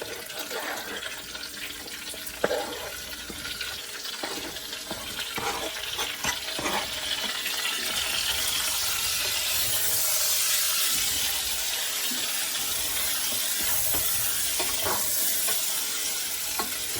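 Sliced onions sizzle steadily in a pan of rendered bacon, a bright continuous frying hiss that swells and holds, with occasional stirring scrapes and clatters.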